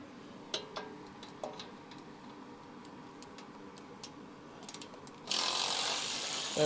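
A ratchet clicks in short bursts as it turns a bolt on a snowblower in a garage, a few faint near ticks followed by a louder rough burst of turning.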